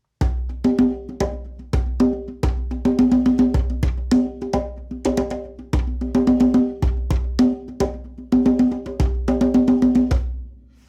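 Drums play a steady rhythmic pattern of sharp hits with a ringing pitched tone, repeating in short phrases.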